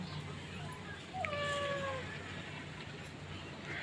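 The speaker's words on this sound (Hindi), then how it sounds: "बिल्ली क्यों नहीं खा रही?" A domestic cat in a Pakistani village home meows a few times in a short, rising, moderately close cry, set against a steady background hum with faint household noise.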